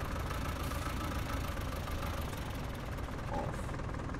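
A stationary tractor idles steadily in Farming Simulator 19, a continuous low mechanical rumble with a faint knocking texture that stays level and close throughout, with no talk over it.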